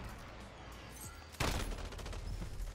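PKM machine gun in Modern Warfare fires a loud sustained burst that starts abruptly after a quieter opening stretch and continues to the end, close and dense.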